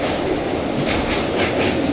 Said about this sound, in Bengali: ট্রেন আসছে দেখো